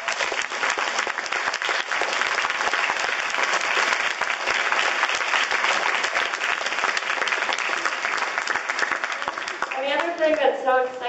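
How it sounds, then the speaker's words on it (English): Sustained audience applause from a crowd at a charity event, steady and loud throughout, with a voice starting to speak at the very end. "So let's give everybody a round of applause."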